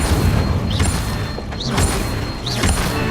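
Incendio fire spells are cast again and again in Hogwarts Legacy, each one a whooshing, rising burst with a dull boom, heard about three times over a steady low rumble.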